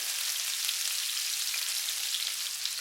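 Beef with cumin stir-frying in a hot pan, a steady bright sizzle that holds evenly, close up, with a brief scrape of stirring near the end.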